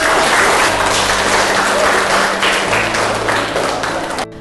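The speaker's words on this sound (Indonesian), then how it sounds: "Tepuk tangan untuk kita semua." A classroom of students applauds together, loud and dense clapping filling the room close by, with a low hum beneath, holding steady before easing slightly and cutting off.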